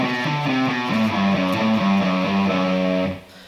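A distorted electric guitar plays a fast descending lick with downward pickslanting, evenly picked notes in a steady stepping pattern before ringing out and cutting off near the end, alone and close.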